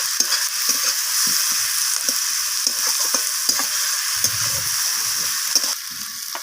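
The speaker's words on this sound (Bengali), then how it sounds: "পেঁয়াজের সাথে আমি টমেটোটাকে একটু ভাজা ভাজা করে নিচ্ছি নরম হওয়া পর্যন্ত" Onions and tomatoes fry together in a pan, producing a loud, bright, steady sizzle with intermittent low knocks and scrapes from stirring, close up and without talk.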